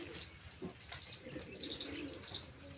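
Pigeons coo softly nearby in low, rolling murmurs mixed with faint chirps, quiet and steady over a couple of seconds, with no talk.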